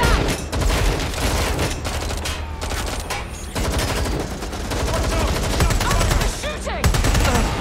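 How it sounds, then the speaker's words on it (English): Dense gunfire in the video game Watch Dogs: Legion: sustained automatic bursts and overlapping shots rattle loudly and close for the whole stretch, with brief gaps between volleys. "Shooting! Need some cover!"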